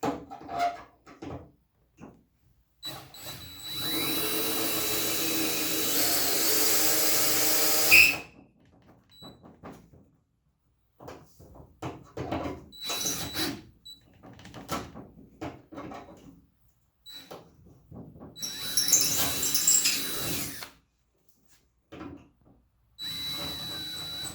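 A drill bores bolt holes for the fiberglass hood hinges on an Early Bronco, with a steady whine of about five seconds, a shorter burst later on, and scattered clunks and handling noises between the runs.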